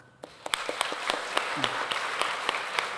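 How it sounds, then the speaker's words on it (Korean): A church congregation claps for newcomers at a Sunday service, a dense run of hand claps with sharper individual claps standing out, steady and fairly close for about three seconds. "새로운 청 박수 한번 해줘."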